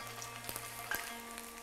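Bulgur kibbe frying in hot oil at about 350 degrees in a pan, a steady soft sizzle and crackle with a few sharper pops, close and alone without talk.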